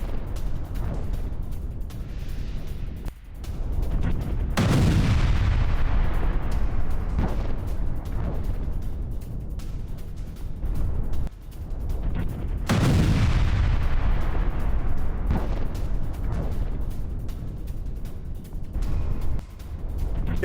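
Heavy artillery fire during a Ukrainian attack on a Russian T-72B tank sounds as two loud booming blasts with long rumbling decays. A constant noisy roar sits underneath and sharp crackles are scattered throughout.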